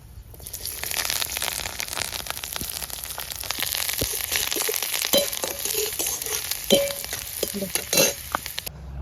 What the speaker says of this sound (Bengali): রসুন গুলো যে কুচানো হয়ে গেছে এই যে তেলে ফেলে দুটো শুকনো লঙ্কা দিই এই রসুন রসুনগুলো দিয়ে দিই